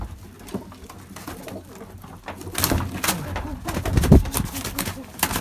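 Pigeons coo in a loft where someone is releasing young and adult smoky-coloured birds. The soft cooing is joined by rustling, handling and wing noises, and the calls build toward a louder, closer burst near the end.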